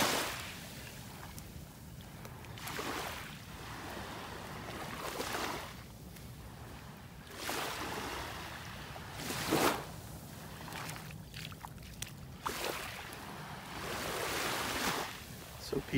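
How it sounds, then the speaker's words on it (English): Small, gentle ocean waves wash onto a sandy Gulf beach in North Naples, Florida, with soft surges rising and falling every few seconds amid light wind noise. "So peaceful just listening to the waves."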